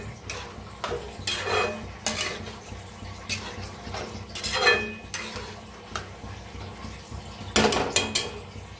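A spoon stirs a lentil and onion mixture in a metal pot, giving close, uneven scraping and clinking strokes in short bursts with quiet gaps between them.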